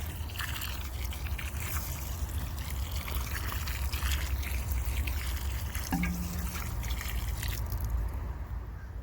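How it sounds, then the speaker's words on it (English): Water trickling and dripping onto freshly planted asparagus, a soft continuous splashing wash that stays steady and fairly quiet throughout. "I'm watering my plants after planting."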